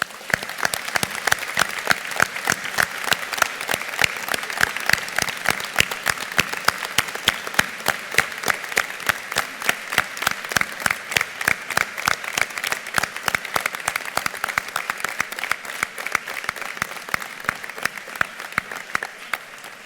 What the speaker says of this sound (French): Je vous demande de l'applaudir, Monsieur Jean-François Boyer.